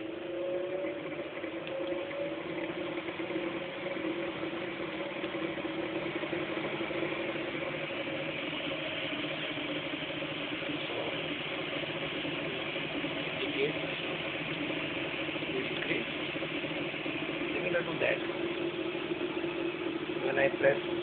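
An AC motor running under RF remote speed control, a steady muffled mechanical hum with faint rattling that holds fairly even and swells slightly toward the end, with someone talking over it.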